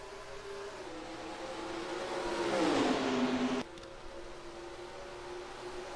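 A field of race cars in the NR2003 racing game takes the green flag at Homestead, engines swelling into a loud roaring surge that rises in pitch, then cutting off abruptly to a quieter drone.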